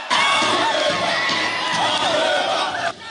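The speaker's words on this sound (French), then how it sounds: "Sur les lieux, une foule hostile bat le pavé" A hostile crowd of protesters fills the street with a dense, loud roar of shouting voices, sustained and close for the whole stretch before cutting off.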